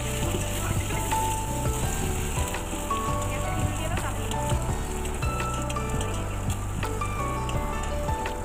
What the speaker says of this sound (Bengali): পেঁয়াজ কুচিটাও একটু হালকা ভাজা ভাজা করে নেবো সামান্য একটু নুন দিয়ে।